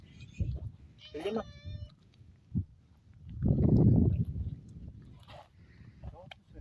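A cat meows a few times at a fishing spot outdoors, close by and fairly faint, with rustling and handling noises in between.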